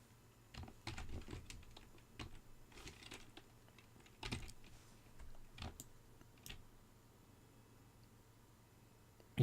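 Sparse, quiet key presses on a computer keyboard, scattered clicks and short bursts with gaps between them, close and soft in an otherwise quiet room.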